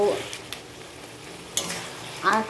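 Boiled taro leaves (kochu shak) fry in hilsa fish oil with ginger-onion and garlic paste and green and dry chillies, a steady soft sizzle broken by a few stirring scrapes and a spoon knock near the end.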